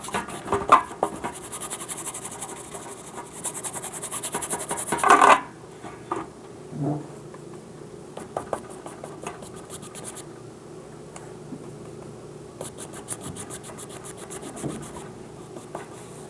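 A paintbrush scrubs blue paint onto a canvas while a seascape is painted, making a quick, repeated bristly rubbing and scratching. Bursts of strokes are separated by short pauses, with soft taps in between. No one speaks.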